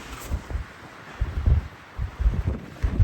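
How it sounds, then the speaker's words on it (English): Strong, warm wind gusting across an exposed mountain ridge near a fire lookout, buffeting the microphone in repeated low roaring bursts. "It's pretty windy, but it's a warm wind, not too bad."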